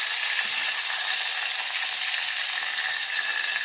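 Tomatoes fry in a pan for cabbage curry, a steady bright hiss of sizzling oil that holds evenly from start to finish, close and fairly loud, with no one talking.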